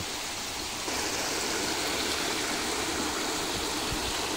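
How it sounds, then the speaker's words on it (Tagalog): A stream at Labangan Resort in Abucay, Bataan rushes steadily with a constant, hissing flow of water, close by and unbroken, with no other sounds. "dito ay mayroon pang batis na paliguan"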